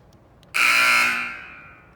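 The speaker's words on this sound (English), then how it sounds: "When you press that, the buzzer goes" A scoreboard hand controller's buzzer sounds once, a loud, harsh, steady electronic tone lasting over a second before tapering off, with no talk.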